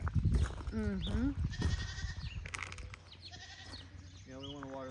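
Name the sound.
goats bleating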